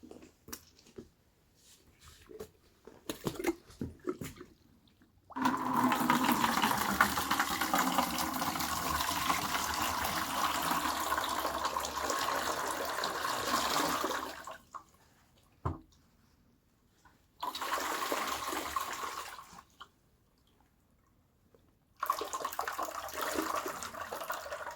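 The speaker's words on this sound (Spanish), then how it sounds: "Ya que pasaron los 60 minutos, vacían la mezcla en el recipiente." Dirty battery cleaning mixture poured from a car battery into a container, a long steady liquid gush that stops, then resumes in two shorter pours separated by brief silences, close and fairly loud with no talk.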